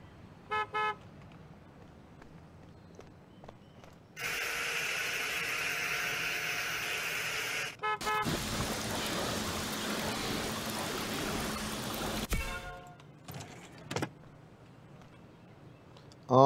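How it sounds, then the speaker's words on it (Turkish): A game Audi in Car Dealership Simulator roars and whooshes as it drives off, a loud steady engine rush lasting several seconds before cutting out, with brief horn-like toots around it. "Audi gidiyor."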